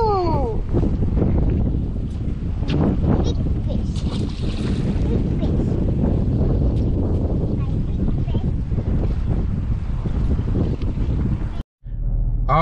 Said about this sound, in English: I think it's too windy